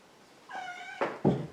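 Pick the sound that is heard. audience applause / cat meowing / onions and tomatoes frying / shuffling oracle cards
cat meowing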